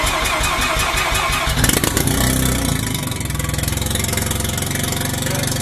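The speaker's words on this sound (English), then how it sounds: "And the car started perfectly." A single-turbo Mazda RX7 FD3S with no downpipe cranks over and fires, then settles into a loud, raw, close-up idle with a steady pulsing rhythm.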